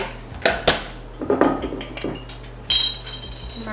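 Ice cubes dropping into a glass for a mocktail, a series of sharp clinks and clatters in uneven bursts, close and fairly loud, with a brief louder rattle near the end.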